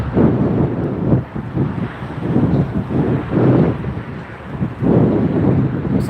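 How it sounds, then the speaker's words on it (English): Gusting wind at Tampa Airport buffets the microphone in loud, uneven surges of low rumbling noise that swell and ease several times, with no talking. "these winds are gusting"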